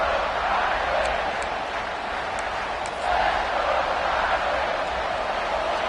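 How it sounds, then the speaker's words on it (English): Stadium crowd roaring steadily during a video game American football match as the defense tries for a stop in the red zone, a broad continuous wash of cheering with a swell partway through. "The crowd getting behind this defense as they try to get a stop in the red zone"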